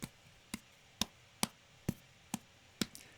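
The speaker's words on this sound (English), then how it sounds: "punching sounds like this." Punching sound effect for a fight scene: seven sharp, evenly spaced thuds about half a second apart, each short and punchy against a quiet background.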